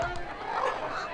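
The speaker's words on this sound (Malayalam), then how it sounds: "അയ്യോ എന്റെ കോഴികള്" Chickens in a Malayalam comedy scene give a short, agitated burst of squawking and clucking, fairly close and continuous with a little voice mixed in.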